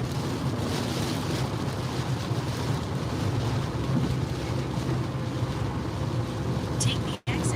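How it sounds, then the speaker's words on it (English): Strong, continuous wind roaring and buffeting the microphone near a tornado in Kansas, a dense steady rush, with a voice briefly audible under it. "whoa, big time wind. Big time wind."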